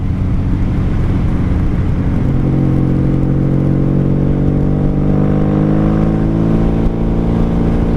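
A 1995 motorcycle fitted with Jardine pipes revs up hard, its loud, close engine note climbing steadily in pitch as it accelerates, with a rough whirring roar throughout.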